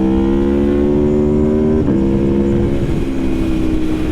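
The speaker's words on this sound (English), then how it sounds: "I'll wait until this car passes and then we'll catch up." A car drives past on the road during a cornering ride, its steady engine drone loud and close throughout and shifting in pitch midway as it goes by.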